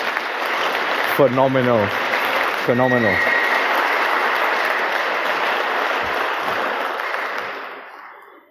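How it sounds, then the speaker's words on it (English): The audience at the HITB 2019 Amsterdam security conference applauds the crew and volunteers with a steady wash of clapping. Someone briefly speaks over it early on, and the applause fades out at the end. "big round of applause to all of the crew, all of the volunteers"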